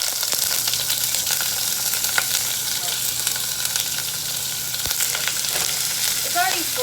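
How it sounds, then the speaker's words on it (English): Thinly sliced beef, cut sukiyaki-style for niku-jyaga, sears in a hot pan with a loud, steady, close-up sizzle and crackle that fills the clip, broken by occasional small pops. "we want to get color on the beef"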